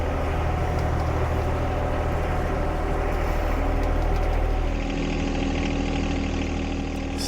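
A John Deere 1025R compact tractor engine runs steadily at idle, a loud, continuous low rumble that holds unchanged throughout with no voices over it.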